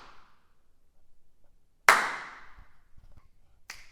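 Hand claps in a large recording studio room: one sharp, loud clap with a long reverberant tail, then another starting near the end, with a faint rustle between.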